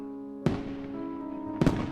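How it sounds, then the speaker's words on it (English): Fireworks in the video game Love Esquire burst twice, about a second apart, each a sharp crack trailing into a long fading rumble with lingering tonal background music. "Oh, that must be the last of the fireworks."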